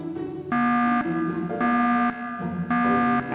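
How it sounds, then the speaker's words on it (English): In the video game Beacon Pines, an electronic alarm sounds in a steady two-tone pattern, alternating a high buzzing tone and a lower one about every half second, loud and repetitive with no voices. "I didn't know we had an alarm."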